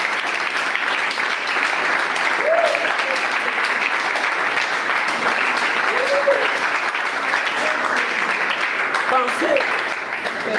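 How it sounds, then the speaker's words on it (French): Audience applause at a religious gathering fills the whole stretch, steady and dense, with a few faint voices rising through the clapping. "Applaudissez pour vous."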